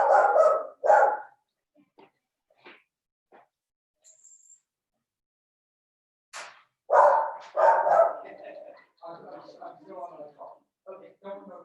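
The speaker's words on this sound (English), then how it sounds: "My dog is barking." A pet dog barks in loud, close bursts with quiet gaps between them, while someone talks and calls to it.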